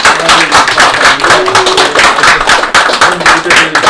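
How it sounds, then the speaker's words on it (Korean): A church congregation at an opening worship service claps together in thanks, a dense, loud, steady roll of many hands close by, sustained for several seconds. "우리 하나님 앞에 먼저 감사의 박수를 함께 드리겠습니다."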